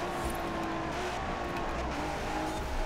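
Hennessey Velociraptor 6x6 in Forza Horizon 4 under engine braking, a steady droning engine note holding throughout with no pauses, loud and close.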